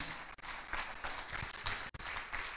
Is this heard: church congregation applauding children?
yes